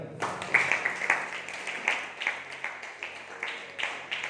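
A church congregation claps together at a Sunday service, with soft, fairly even claps repeating through the clip in a reverberant hall.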